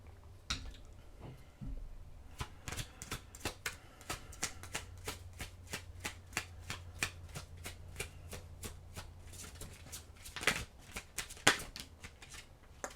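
Oracle cards shuffled by hand at close range, a quiet series of crisp riffling snaps and slaps in an uneven rhythm, with a denser flurry toward the end and no talk over it.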